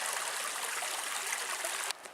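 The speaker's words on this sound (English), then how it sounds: "right next to this little stream, there's also a campsite just off into the woods" Small woodland stream beside a campsite near the Superior Hiking Trail, a steady, fairly close rush of trickling water that cuts off abruptly near the end.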